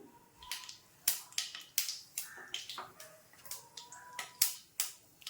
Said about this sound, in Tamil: கடுகு நல்லா வெடிக்கட்டும்.